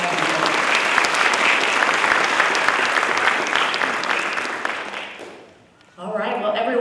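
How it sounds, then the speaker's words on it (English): Dense applause from a university spring convocation audience fills the hall for about five seconds, fades out, then a voice begins speaking. "another round of applause for them"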